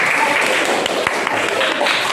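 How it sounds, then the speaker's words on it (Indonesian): A classroom audience claps for Group 1 during a teaching practice session, a brief, steady patter of many hands, fairly loud and close, with faint voices mixed in. "tepuk tangan untuk kelompok 1."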